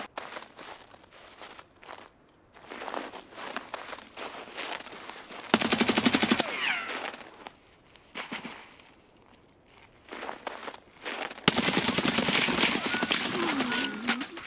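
Gunfire in a shooter video game: loud bursts of automatic fire in two long stretches, separated by quieter gaps with scattered shots and footsteps-like rustling.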